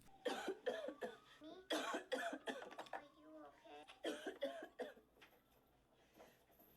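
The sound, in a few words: man coughing in a film scene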